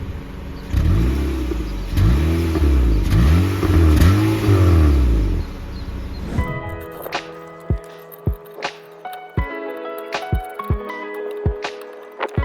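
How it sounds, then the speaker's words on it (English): A car engine revs up and down several times through the exhaust, a deep rising and falling roar, followed by clicks and taps after it stops. "I'm gonna give it a quick rev just to see how it sounds right now"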